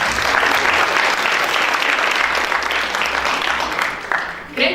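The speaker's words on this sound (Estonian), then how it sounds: "Aplaus Ingale!" An audience at a school fashion show gives a short, full round of applause, dense clapping that holds steady and then tapers off over about four seconds.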